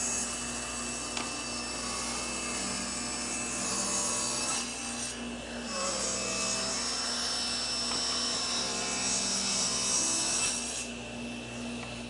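A flat, planed wooden board ripped to final width on a table saw for a small cabinet, a loud steady motor hum and whine with the blade's cutting noise rising and easing as the wood feeds through.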